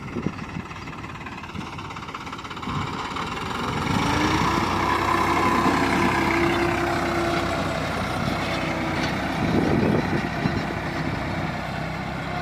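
A tractor works a laser leveler across a farm field, its engine a steady low rumble that swells louder partway through and holds near, with no talk over it.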